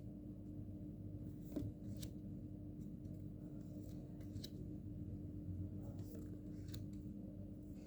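Tarot cards are shuffled quietly, giving soft papery riffles with a couple of sharper flicks over a steady low hum in a still room, with no one speaking.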